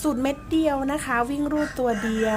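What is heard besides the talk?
rooster crowing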